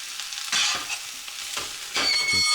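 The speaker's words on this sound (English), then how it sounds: "That's just my frying pan scraping on the hob." Metal frying pan scraping and grinding across a stovetop hob in a few loud, rasping bursts, close up, with quieter shuffling between them.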